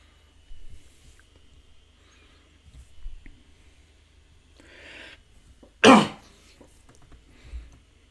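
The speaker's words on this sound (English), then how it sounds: "My apologies for a bit of a cough." A single sharp, loud cough from a nearby person, with a few quieter throat noises and breaths scattered around it in an otherwise quiet room.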